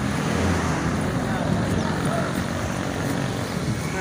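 Traffic rumbles past on a main highway, a continuous loud roar of passing vehicles with broad wind-like noise, heard close by from the roadside.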